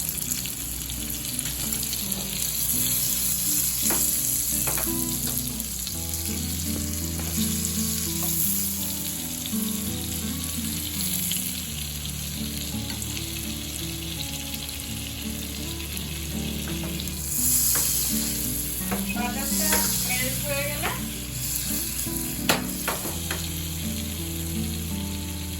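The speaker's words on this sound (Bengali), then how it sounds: "পনির ভাজার তেলেতে আমি 1 চামচ বাটার দিয়ে দিচ্ছি।" Butter added to hot oil previously used for frying paneer sizzles steadily and loudly for a long stretch, with occasional stirring clinks and no talk over it.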